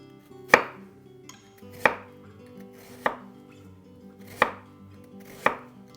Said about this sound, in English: then I'm going to slice them like this and get thin slices.